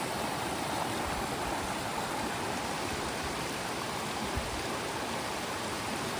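A stream rushes steadily beside the living root bridge at Mawlynnong in Meghalaya, a dense, even roar of flowing water heard up close with no break and no voices over it.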